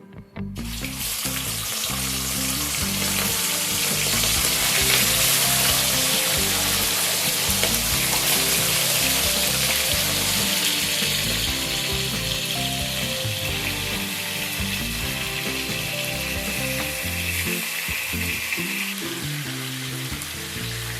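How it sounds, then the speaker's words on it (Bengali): Freshly washed chicken pieces hit hot oil and burst into a loud, dense, continuous sizzle that holds steady and close for the whole stretch. "এই চিকেনের টুকরোগুলো এবার এই তেলের মধ্যে দিয়ে দেবো।"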